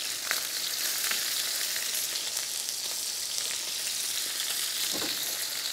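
Shrimp searing in a hot pan for buckwheat pasta give a steady, loud, hissing sizzle throughout, with a few faint scrapes and pops near the front and no voices.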